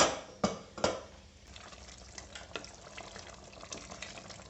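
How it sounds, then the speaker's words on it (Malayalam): Boiled water poured into a pressure cooker of half-cooked chicken gurgles and splashes steadily after a few sharp clanks, close and fairly quiet, with no talking. "ഇനി ഇതിനകത്തേക്ക് തിളപ്പിച്ച വെള്ളം ചേർത്ത് കൊടുക്കുക"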